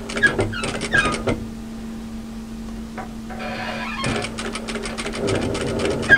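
A sewing machine stitches pleats into a cross-back apron in short mechanical bursts, pausing for a few seconds before running again steadily and close by.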